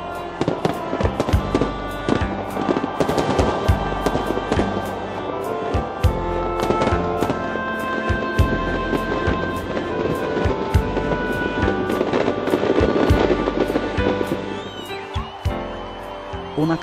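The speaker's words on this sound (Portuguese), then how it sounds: "quase 20 minutos de fogos de artifício de todas as cores" Continuous fireworks burst over Rio de Janeiro on New Year's Eve, a dense barrage of sharp cracks and booming explosions with crackling tails and constant rumble, loud and sustained throughout, with faint crowd voices mixed in.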